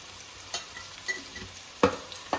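Shredded cabbage seasoned with ginger paste and pepper fries quietly in a pan, a soft steady sizzle broken by a few sharp scrapes of a spatula stirring it.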